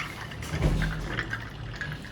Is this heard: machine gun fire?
no